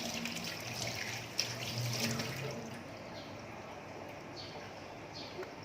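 Tap water runs steadily as fish is rinsed in a sink, a soft continuous splashing that is a little fuller at first and then settles into a quieter trickle, with no talk over it.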